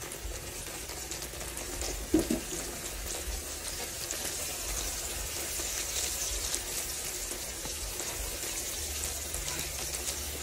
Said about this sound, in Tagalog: nakoted na po natin yung pork ribs po natin. Kaya prito na po natin isa-isa